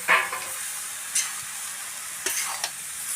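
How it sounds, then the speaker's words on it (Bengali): Kalo kochu (black taro) with salt and turmeric being stirred in a hot pan, village-style: a steady close sizzle with several scraping stir strokes, a sharp one near the start and others later, and no voices. "এখন এটাকে ভালোভাবে ঘেটে নেড়ে নেবেন।"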